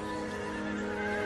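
A horse whinnies loudly and close by, a sustained, wavering neigh filling the whole moment with no other sounds.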